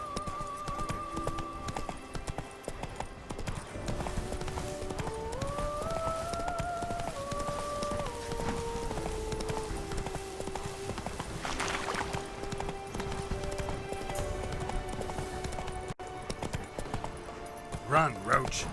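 Roach the horse gallops in The Witcher 3, a steady rhythmic clip-clop of hooves running under a sustained melodic musical score, with a faint voice briefly heard amid the pounding hoofbeats.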